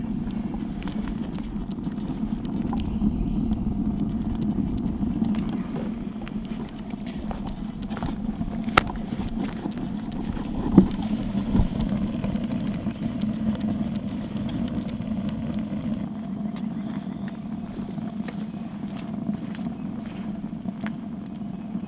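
A wood-fired rocket stove burns with a steady, deep roaring rush as it draws hard, constant throughout with occasional small pops and crackles.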